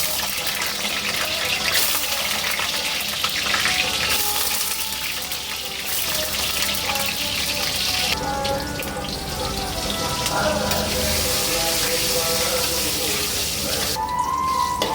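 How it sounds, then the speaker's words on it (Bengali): Potatoes fry in hot oil in a kadai, a loud, dense and unbroken sizzle close by that holds steady for the whole stretch. "এই কড়ার তেলের মধ্যে আলুগুলো ভেজে নেব"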